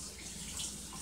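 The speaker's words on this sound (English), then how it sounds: "Wring it out and rinse it real quick." Running water rinsing fabric dyed with blackberries, a steady broadband splash and trickle from a tap, close and moderately loud, continuous throughout with no talking.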